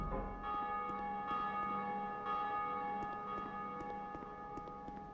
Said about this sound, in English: I think this will ring the bell